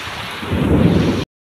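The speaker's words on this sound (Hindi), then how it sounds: "घड़घड़ी सह वर्षा" Heavy rain falling in a village with rumbling thunder, a dense, steady roar that swells louder midway and cuts off abruptly, with no voices.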